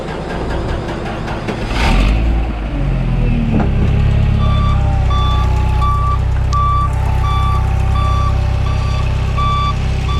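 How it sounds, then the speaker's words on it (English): A forklift idles in reverse, its loud engine rumble running throughout while a steady series of evenly spaced reversing beeps repeats close by after a brief revving surge. "You want to jump in it and just put it in reverse, but let it idle."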